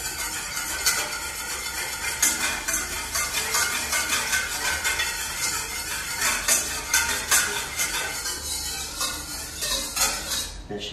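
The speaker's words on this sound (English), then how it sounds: "And then we just stir that around until it's completely dissolved." A spoon stirring a tea jelly mixture for flummery until it dissolves, giving close, rapid, repeated metallic clinks and scrapes against the container in an uneven steady rhythm throughout.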